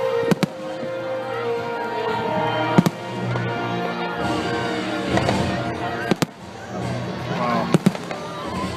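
Fireworks exploding close by during a July 4th celebration, with sharp loud bangs at irregular intervals over a dense crackling, whistling layer, while people talk and react nearby.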